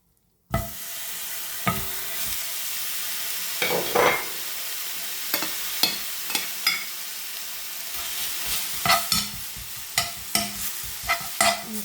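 Minced meat stirred and frying in a pan with no added oil, a steady sizzle under repeated scraping stirs from a utensil, close and fairly loud, with no talk.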